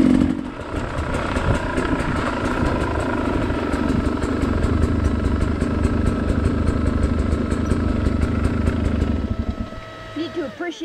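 A dirt bike rides through an open field, its engine droning loud and steady before dropping away near the end.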